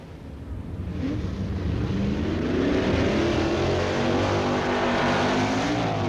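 BFX class drag cars launch off the line at the Winternationals runoffs, a loud, thick engine roar that swells within the first second and then holds steady and close to the end.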